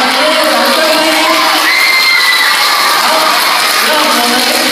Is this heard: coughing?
no